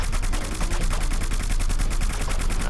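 Sustained rapid gunfire from suppressing fire in the Plants vs Zombies shooter, a dense, loud, evenly pulsing automatic burst that continues unbroken for nearly three seconds.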